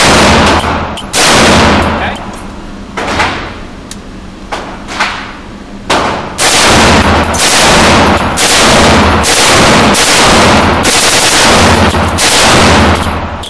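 G36K rifle firing full auto at a range: a few single loud shots, then sustained bursts of rapid close gunfire echoing, with brief pauses between strings.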